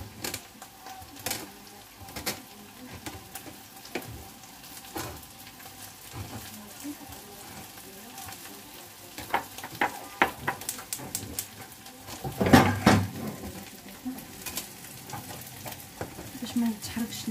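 Fish and button mushrooms sautéing in a pan, a low crackling sizzle broken by intermittent scraping and clicking of a utensil, growing louder with a burst of stirring near the end.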